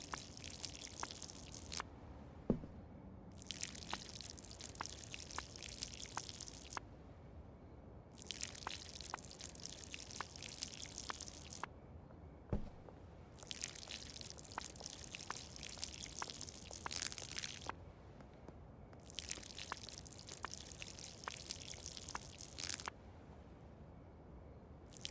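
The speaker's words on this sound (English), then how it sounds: "I wonder how much water I have left in this watering can." A watering can pours water onto plants in the video game Schedule 1, in a run of steady splashing pours each lasting several seconds, separated by short quiet gaps, with no talking.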